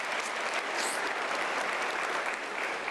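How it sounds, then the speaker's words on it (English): Steady, fairly quiet applause from a seated audience at a UNISA autumn graduation ceremony, an even wash of many hands clapping with no voices over it. "Can we give her a round of applause?"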